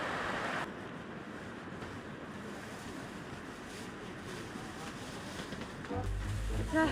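Continuous rushing water, steady and fairly close, like a stream or surf, at a forest campsite in Mongolia, with some wind noise and a low rumble near the end; no talking.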